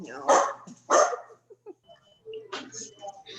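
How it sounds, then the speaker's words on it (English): Two sharp dog barks carry over a Zoom call, followed by quieter scattered sounds and a fainter bark-like burst near the end. "Who's got the dog?"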